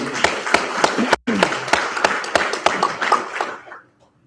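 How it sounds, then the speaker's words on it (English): Group applause at a university program completion ceremony, a burst of close, uneven claps that breaks off briefly, resumes and then fades quickly into silence. "So first of all, applause to us."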